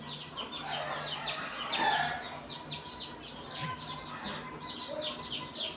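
A brood of twenty-five White Kelso chicks peeps and chirps continuously in a backyard, rapid high calls overlapping at close range with occasional soft clucks underneath.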